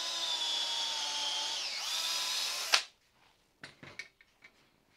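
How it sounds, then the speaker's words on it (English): A power drill whines steadily at high speed as the bit bores through a self-centering doweling jig into the workpiece, with the pitch dipping under load before it stops sharply, followed by a few light clicks and knocks. "take my drill bit that fits the particular diameter and drill."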